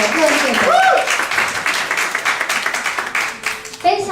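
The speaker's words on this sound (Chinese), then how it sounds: "给他们一个热烈的掌声" A church congregation at a Saturday service breaks into warm applause, dense clapping that swells and then thins to scattered claps, with voices mixed in.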